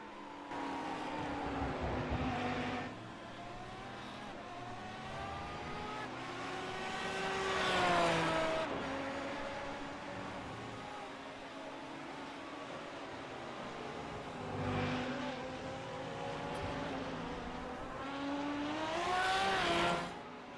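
GT1 and GT3 race cars circling Zandvoort in a racing video game: engines swell and fade as cars pass, with rising and falling revs and shifts across several passes.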